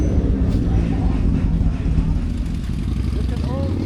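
Motorcycles in a biker birthday procession through a neighborhood in George, engines roaring in a steady, dense low rumble throughout, with voices faintly mixed in.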